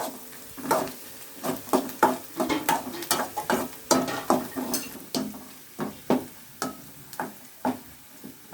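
Onions and green chillies sautéing in a pan, with a spatula scraping and knocking the metal in quick repeated strokes over a steady sizzle, close and moderately loud, no voices.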